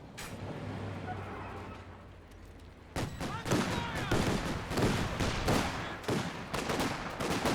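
Gunfire in a Company of Heroes 2 battle: after a quieter stretch of distant rumble, a rapid string of sharp shots and bursts breaks out and keeps firing in uneven volleys, fairly close and loud.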